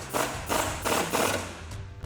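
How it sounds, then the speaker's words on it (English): A ratchet tightens a 21mm bolt on a BMR IRS subframe support brace on a 2015-2024 Ford Mustang. Quick, evenly spaced clicking bursts repeat steadily at close range. "now we're going to tighten up our 21mm bolt here that we loosened earlier"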